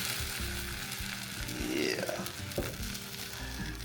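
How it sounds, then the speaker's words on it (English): Just Egg and Beyond Meat crumbles fry together in a pan, making a soft, close sizzle with a brief scrape midway; one short word is spoken. "Getting a little bit of just egg going. And some Beyond Meat crumbles before I get my day going."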